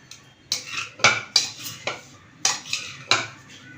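A spoon mixes salt, turmeric and chili powder in a pan for a paneer and mushroom marinade, giving about half a dozen sharp metallic clinks and scrapes in an uneven rhythm, close by, with no talking.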